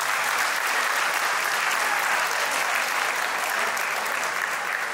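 Steady, dense applause from a large crowd at a graduation ball, sustained and loud the whole time without pause.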